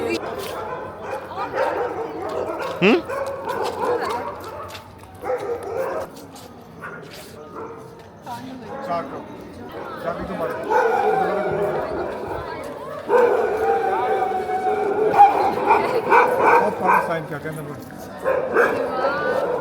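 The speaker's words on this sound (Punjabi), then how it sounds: "ਇਸ ਟਾਈਮ ਕੁੱਤੇ ਬਹੁਤ ਭੌਂਕ ਰਹੇ ਆ" Several dogs bark and yip repeatedly, some near and some farther off, at Harmandir Sahib in Amritsar, with people talking in the background throughout.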